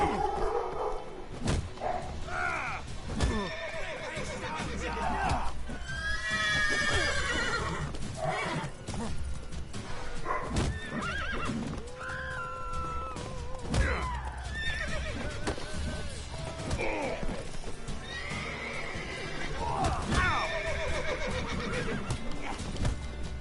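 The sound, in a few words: horse neighing and hooves in the video game The Witcher 3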